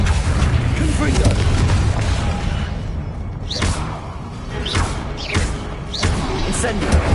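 Confringo spell explosions in Hogwarts Legacy combat, loud booming blasts and thuds with whooshing bursts recurring over dense rumbling game noise, with a voice speaking during the fight.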